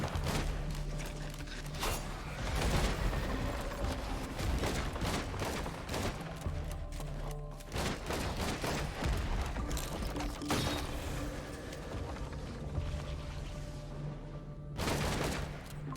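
Gunfire in Risk of Rain 2, bursts of rapid shots and mechanical clatter scattered across a busy game soundscape, with heavier volleys near the start, middle and end.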